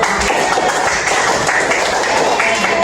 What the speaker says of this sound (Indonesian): Oke, balik tepuk tangan.